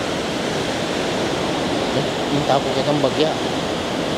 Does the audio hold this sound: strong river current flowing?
yes